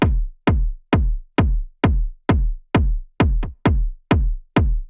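Punchy electronic kick drum hits on a steady four-on-the-floor beat, around eleven sharp thuds with booming low tails, heard on its own.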